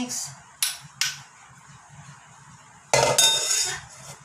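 Sticky rice being mixed in a pot for biko, a Filipino rice cake: a few sharp clinks of a utensil against the pot, then a louder burst of scraping and clattering near the end, close by with quiet gaps between.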